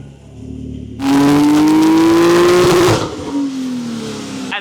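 Porsche 992 fitted with an ES exhaust revving hard on a dyno, a sudden loud rising wail that holds for about two seconds, then drops back to a lower idle-like drone.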